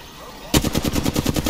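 Rapid automatic gunfire in Apex Legends bursts in loudly after a quiet half-second, a dense rattling stream of repeated shots continuing to the end.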